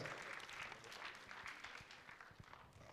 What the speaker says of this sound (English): Please let's welcome him with a round of applause.